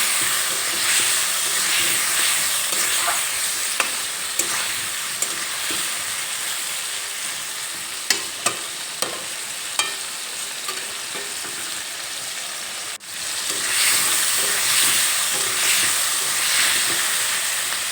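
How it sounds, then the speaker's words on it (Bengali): Potatoes, tomatoes and onions fry together in a pan, a loud continuous sizzle broken by several sharp clicks of a spatula stirring against the metal, with a brief dip near the end before the hiss resumes. "টমেটো আলু আর পেঁয়াজ এখানে আমি দুই তিন মিনিটের মতো একসঙ্গে ভেজে নিয়েছি"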